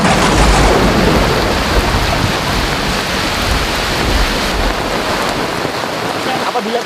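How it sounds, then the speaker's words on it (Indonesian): Thunder rumbles low through a steady roar of heavy rain in a nipa palm forest beside a river, the downpour loud and continuous from start to finish. "Ada petir."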